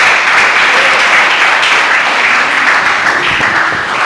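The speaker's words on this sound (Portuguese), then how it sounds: "Vamos aplaudir o Senhor nessa noite, irmãos, bem forte" A church congregation applauds at an evening service, a loud, dense wash of many hands clapping steadily and close for the whole stretch, with no voices standing out.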